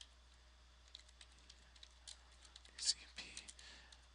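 Quiet keyboard typing, irregular clicks and taps coming in short bursts, close but faint, with a low steady hum beneath.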